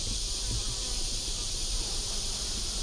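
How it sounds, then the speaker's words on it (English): Steady insect buzzing fills the air, a dense, continuous drone of many honey bees close by at their hive, with no voices. "The bees are bringing in pollen."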